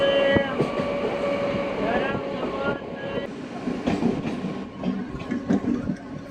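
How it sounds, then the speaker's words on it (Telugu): An Anantapur–KSR Bengaluru MEMU train pulls out of Someshwaram station, wheels rumbling and clattering over the rails with squealing tones and a steady rolling roar, while voices talk faintly in the carriage. "సోమేశ్వరం నుంచి మన ట్రైన్ బయలుదేరింది"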